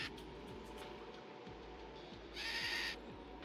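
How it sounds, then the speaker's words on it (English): Repeated short bird calls from the Terraria video game chirp at a steady rhythm over a soft ambient background, with a brief brighter burst of hiss near the end; no talking. "Go away, bird."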